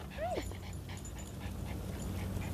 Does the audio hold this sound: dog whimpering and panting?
yes